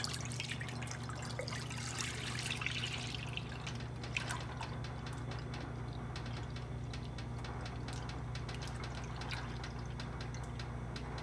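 Milk poured into a large kadai (wok) for homemade paneer, a steady soft trickle and splash running continuously at moderate volume over a low background hum.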